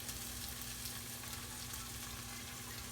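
Tomatoes frying with garam masala, chili powder, coriander powder and salt in a pan for Hyderabad egg biryani, a steady close sizzle with faint stirring throughout, no talking.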